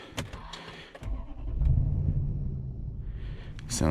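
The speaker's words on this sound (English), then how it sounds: "sounds awesome when it starts up." A 2008 Toyota Land Cruiser VX petrol V8 cranks and catches, its low rumble rising into a steady, fairly quiet idle, heard alone at a moderate distance.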